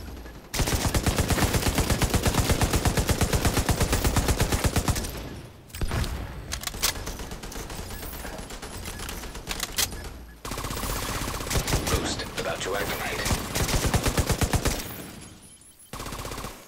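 Sustained, rapid machine gun bursts in the shooter The Division 2, loud and close, coming in three long strings separated by short pauses.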